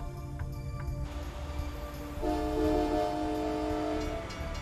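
A train rumbles past in the American Truck Simulator driving game, its horn sounding a sustained, steady chord for a couple of seconds over a low continuous rolling hum, with no talking.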